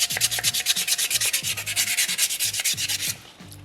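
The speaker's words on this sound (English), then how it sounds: "with sandpaper number 2, we're going to get rid of those little scratches that we just left behind with sandpaper number 1." Sandpaper scrubs rhythmically across a small soapstone polar bear carving in quick, even back-and-forth strokes, close and distinct, with no voices, ending in a brief pause.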